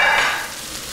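Pork roast searing in a hot pan, a steady hiss of sizzling fat that starts loud and eases slightly over a brief moment, with no voices.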